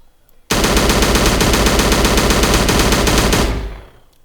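Rapid automatic gunfire from a Unity game demo with muzzle flashes, a loud continuous burst of dense shots lasting about three seconds before trailing off, with no talking.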